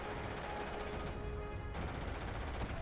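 Gunfire rattles through a fight in the video game Starfield, a dense, steady wash of shots that cuts out briefly midway and then resumes at the same level.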